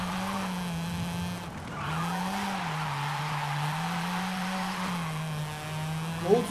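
Tires of a Mazda RX-7 skid steadily while drifting in Forza Horizon 5, a continuous squeal over a droning, wavering engine note that holds for several seconds with no talk.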